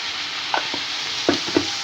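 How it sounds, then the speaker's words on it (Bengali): Steady frying hiss of pangas fish with turmeric, chili powder and salt in a pan, with a few soft scraping stirs, close and moderately loud. "এখন এটাকে আবার একটু ভাজা ভাজা করব"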